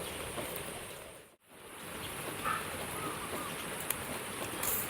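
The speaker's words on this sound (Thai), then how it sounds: "ฝนตกก็บ่อยากลงมาละ อากาศเย็น" Steady rainfall in cool weather, a soft even hiss that fills the background at a fairly faint level, with one brief dip near the start.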